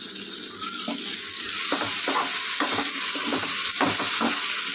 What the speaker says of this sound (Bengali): আদা রসুন বাটা দিয়ে একটু নেড়ে ফেলে নেবো